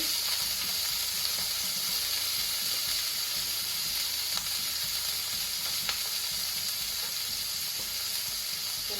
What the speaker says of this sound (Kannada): ಗಾರ್ಲಿಕ್, ಬೆಳ್ಳುಳ್ಳಿ ಸೇರಿಸಿಕೊಳ್ಳುವ